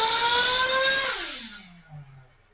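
A motorcycle engine with an OS 2090 or OS 2100 pipe setup on a dyno, a high whining rev that drops in pitch and fades as the engine winds down toward idle.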